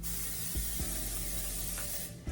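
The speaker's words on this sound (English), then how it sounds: "So I'm gonna spray enough to where how it would have been." Olive oil cooking spray hisses from a can in one steady, close burst lasting about two seconds before cutting off.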